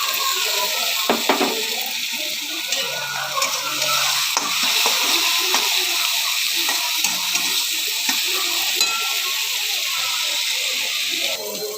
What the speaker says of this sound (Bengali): এই যে দিয়ে এই মশলাটাকে ভালো করে নেড়ে নিচ্ছি